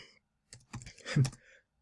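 Computer keyboard typing in short clicky bursts, a few quick keystrokes at moderate level, with a pause near the start.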